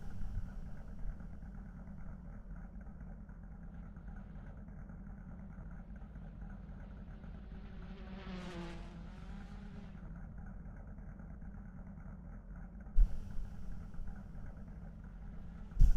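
Deep, bassy race car engine droning steadily in the Assetto Corsa racing game, a low rumbling hum with a brief rising and falling pass near the middle.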